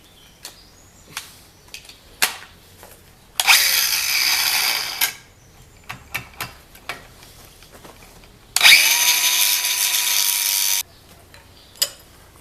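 A battery-powered bladed tool trims an overlong bolt on a Ferguson plough, cutting in two loud, harsh bursts of about two seconds each, separated by scattered clanks and knocks of metal handling.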